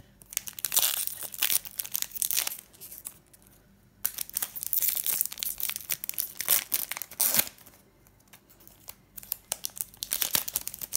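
A Pokémon TCG Steam Siege booster pack wrapper is torn open and crinkled close up, with bursts of sharp plastic crackling and tearing separated by brief quiet pauses.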